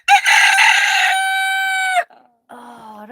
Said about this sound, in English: Do the rooster squawk like I tell you to.